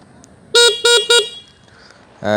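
Three short, loud honks from a Honda S110 motorcycle horn in quick succession, close by, followed by a brief start of a fourth.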